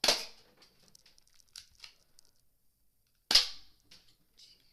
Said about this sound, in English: It just shoots a little plastic BB 6mm.